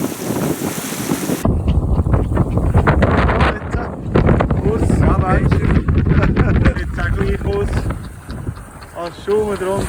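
A sailboat beats close-hauled at over six knots through rough, foaming sea between Sweden and Norway, with steady loud wind buffeting, rushing water and hull slaps throughout, and voices speaking over it.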